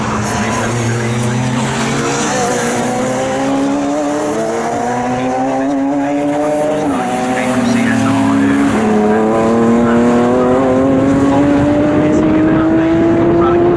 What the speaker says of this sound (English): All the way around the outside goes our race leader, John McRae.